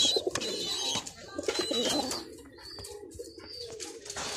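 Pigeons coo softly in a bird-keeping setting, low murmuring calls mixed with faint chirps and rustling, moderately distant and steady throughout.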